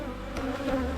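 Honey bees buzz loudly and close during a late-May hive inspection, a dense continuous drone with shifting pitch as insects pass near.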